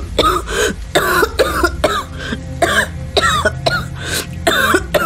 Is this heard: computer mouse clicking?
no